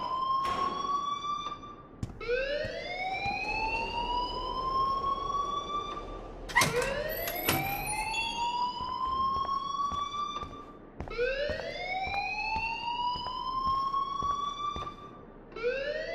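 A fire alarm in the Life is Strange video game wails loudly in repeated rising electronic sweeps, cycling about every four seconds and sounding steady and close, with no talking over it.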